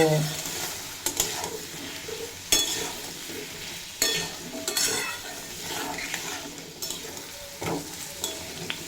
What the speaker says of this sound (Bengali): আর পরিমাণ মতো হলুদের গুঁড়ো দিয়ে ফ্লেমটা লো টু মিডিয়ামে রেখে খুব ভালোভাবে ভেজে নেব